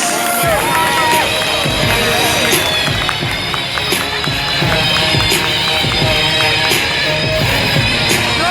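A large outdoor crowd at the Teknofest 2023 airshow applauds as the red Hürkuş aircraft passes, a loud, dense wash of clapping and crowd noise throughout, with scattered sharp impacts.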